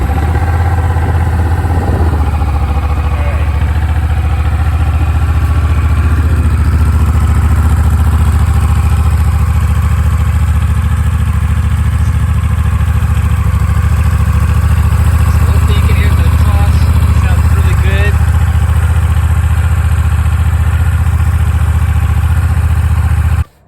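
A Honda Rebel 1100 motorcycle engine rumbles loudly and steadily at idle, close up, with a low continuous drone throughout and a voice heard faintly over it.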